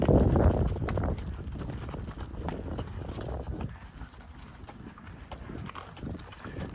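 A 27-year-old mare walks along, her hooves clip-clopping in a steady, moderately close rhythm, loudest at the start and fading slightly, with faint background noise.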